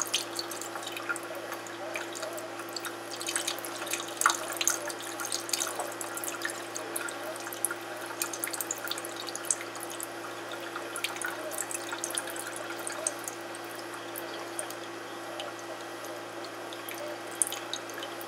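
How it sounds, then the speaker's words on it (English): Excess water from saved heirloom beefsteak tomato seeds pours through a strainer into a bowl, making a light, continuous trickle with scattered drips and splashes that stays close and fairly quiet throughout. "I'm going to pour off the excess water"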